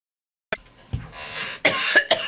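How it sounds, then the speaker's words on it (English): A person coughs several times in quick, harsh bursts after a moment of silence, close and loud, with raspy breaths between the coughs. "I'm hacking and coughing"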